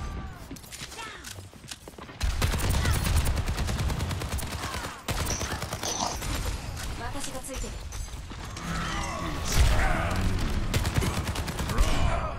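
Rapid bursts of gunfire from the Overwatch 2 video game crackle through a dense match, running loud and nearly continuous under voices talking over the action.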